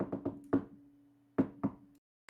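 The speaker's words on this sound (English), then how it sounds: "So you do a gentle knock" A gentle knock on a door made of two quick taps, then a pause and two more taps, close and clear over a faint steady hum, with silence between the knocks.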